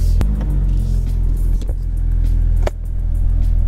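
A 2022 Subaru BRZ with a check engine light reverses, its engine giving a loud, steady low rumble close by, with a few brief knocks or thumps along the way.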